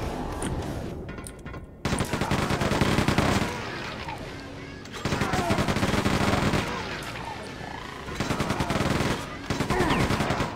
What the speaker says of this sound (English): you heard all that gunfire